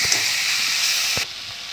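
Homemade spicy mango pickle with jaggery cooking in oil, a steady loud sizzle close by with a couple of soft stirring knocks, the frying hiss dropping slightly near the end.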